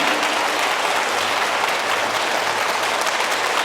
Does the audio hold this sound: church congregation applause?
yes